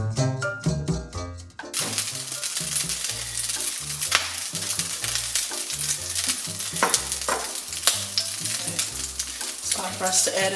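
Beef is stirred and fried in a wok, giving a loud, continuous sizzle with scraping and clattering stir strokes, preceded by a brief run of plucked musical notes.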